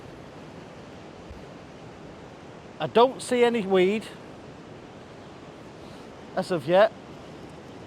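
Choppy sea surf and gusty wind at a beach wash steadily as a broad continuous rush, with someone speaking briefly over it.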